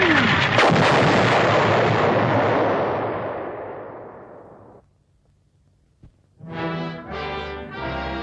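A rocket-propelled armor-piercing bomb explodes in one loud, long blast that rumbles and fades over several seconds, falling to near silence before a brief pop and a burst of brass-like orchestral chords.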